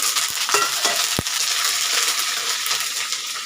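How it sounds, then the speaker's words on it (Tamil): Ginger, curry leaves and green chilies dropped into hot oil with popping mustard seeds give a dense, close sizzle, punctuated by a few sharp pops and clicks of a stirring spoon. "கடுகு நல்லா பொறிஞ்சிட்டுங்க இப்போ நம்ம எடுத்து வச்சா இஞ்சி கருவேப்பிலை பச்சை மிளகாய் போட்டுடலாங்க"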